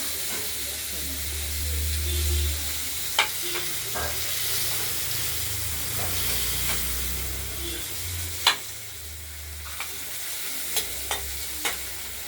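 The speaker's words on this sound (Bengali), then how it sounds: "টমেটোগুলো দিয়ে দেওয়া হলে টমেটোগুলো একটু ভাজা ভাজা করে নেব" Tomatoes frying in a pan with a steady, moderate sizzle and hiss throughout, punctuated by a few sharp spoon taps and stirring clicks, with a low hum underneath.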